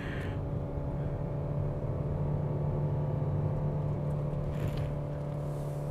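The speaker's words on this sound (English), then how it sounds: "And so we are now shifting down, and we're overtaking an Alza." A 2021 Mitsubishi Xpander MPV, heard from inside the cabin, held in second gear with overdrive off while overtaking a car on the climb to Genting; the engine gives a steady, droning hum with a low rumble and no one speaking.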